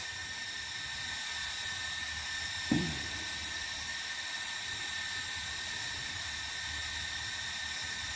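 GD95 drone motors idling on the ground without flying, a steady high-pitched electric whine with tonal harmonics, moderately close and constant, with one brief knock partway through and no speech.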